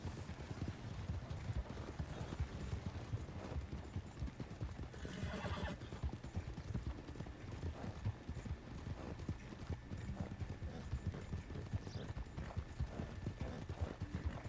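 Hooves clip-clop in a steady galloping rhythm throughout a horse race in Red Dead Redemption 2, a Thoroughbred running against an Arabian, with occasional neighs and whinnies over the continuous pounding, no talk.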